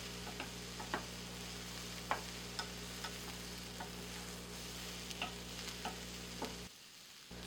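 Shrimp stirred in a skillet of hot canola oil, giving a steady background sizzle with scattered light scraping ticks from the spoon, then a brief drop in the hiss near the end.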